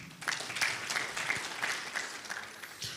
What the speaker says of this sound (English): A hearty clap for the team.